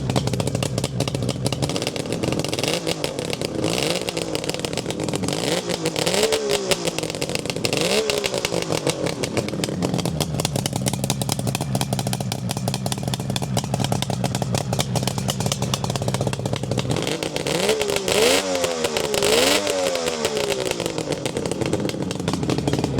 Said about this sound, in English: you can have a little listen to the engine. Super smooth, and then you've got those awesome sounding Delkevic performance expansion chambers